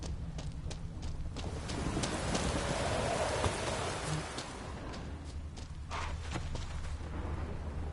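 Steady rain pours during a storm in The Witcher 3, a dense, constant patter of drops over a low rumbling bed, with occasional soft thuds and clip-clop-like knocks mixed in.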